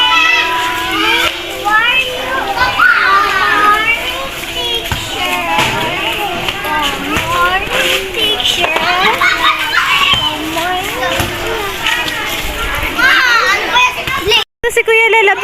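Crowd of schoolchildren playing ball in a school yard near the main gate, a dense, lively mix of shouting kids' voices and chatter filling the whole stretch, with occasional thuds.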